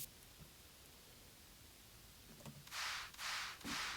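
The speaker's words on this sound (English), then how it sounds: "This is just white noise." A white noise effect in a music production mix: a quiet steady hiss that swells into three louder, bright bursts of noise near the end, with faint clicks just before them.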